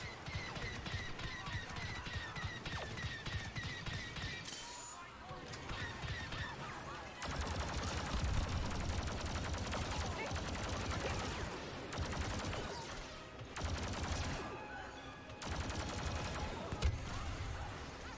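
Star Wars: Battlefront II (2017) battle sounds, with repeated blaster and gunfire bursts crackling over a dense, loud backdrop of combat noise that swells and drops across the scene.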